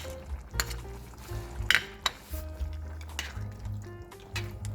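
Pumpkin stuffing of bulgur with prunes and dried cranberries being stirred in a bowl, with repeated scraping and clinking of a spoon against the dish in short bursts, close and moderately loud with no talking.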